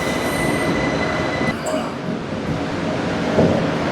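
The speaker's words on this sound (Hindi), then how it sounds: "अच्छा मेट्रो आ गई है फिलहाल, तो उसका एक सीन देख लो।" A metro train pulls slowly into a station in Thailand, its loud steady rumble filling the clip, with high wheel squeal and brief metallic tones over the continuous roar.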